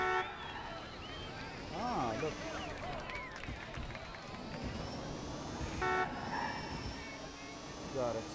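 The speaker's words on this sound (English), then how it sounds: "And why am I honking?" Car horn honking in the Watch Dogs 2 video game during an e-kart challenge, short toots sounding over engine whine and busy game sounds while someone talks excitedly.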